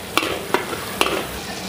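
Amla paste roasts in a pan with a steady soft sizzle, broken by a few light scrapes from stirring, close and alone.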